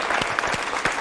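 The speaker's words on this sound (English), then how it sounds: "Big round of applause for Steven Stubbs." Audience applause at a championship round of an opening-arguments competition, a dense burst of clapping with a few louder claps standing out, steady throughout the short moment with no talk.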